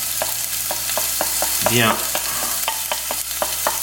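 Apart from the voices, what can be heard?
garlic and shallot frying in a hot pan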